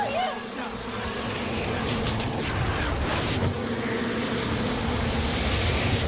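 A swarm of bees in the TV show Smallville, a loud continuous droning buzz that holds steady throughout over a rumbling background.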